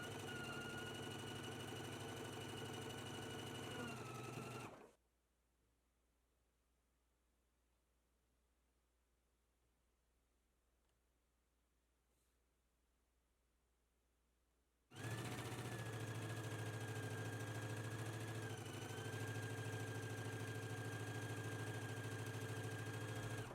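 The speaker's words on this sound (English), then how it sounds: "Let's go ahead to the sewing machine and stitch both of the stitches now." A sewing machine stitching a summer top in two bursts with a steady mechanical whir, separated by about ten seconds of near silence.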